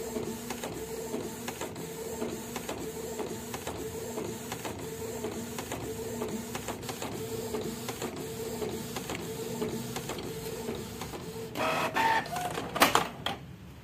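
Canon inkjet printer loaded with sublimation ink runs a print pass, its carriage buzzing back and forth in steady repeating strokes, ending in a few louder mechanical clicks and clunks near the close.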